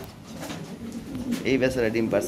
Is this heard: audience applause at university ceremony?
no